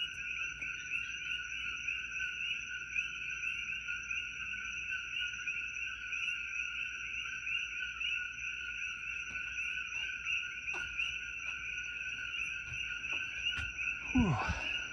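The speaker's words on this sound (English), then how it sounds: "Me and the Koki frogs." Coqui frogs calling at night in Hawaii, a continuous chorus of high, piercing chirps layered at steady pitch, with faint scattered clicks and a brief rustle near the end.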